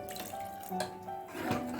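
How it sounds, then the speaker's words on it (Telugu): Water poured from a tap or vessel into methi dal made with fenugreek leaves and ripe red chillies, a steady close splashing trickle running continuously with some clinks. "కొన్ని నీళ్ళు పోసుకుందామండి"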